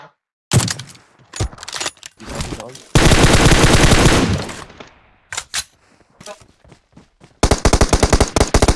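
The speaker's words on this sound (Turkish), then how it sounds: "Niye sıkıyor bu ya?" Loud close gunfire in a video game: sharp single shots and short bursts, then sustained rapid machine-gun fire, more shots and a final rapid burst, with brief quiet gaps between.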